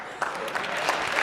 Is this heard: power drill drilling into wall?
no